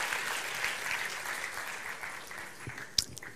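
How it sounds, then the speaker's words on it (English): A film festival audience claps at an award presentation, a moderate, fairly steady patter of applause that tapers off, ending with a few sharper isolated claps near the close. "Okay, round of applause."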